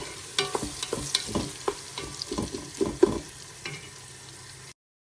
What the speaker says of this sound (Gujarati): તો ડુંગળી સતળાઈ છે.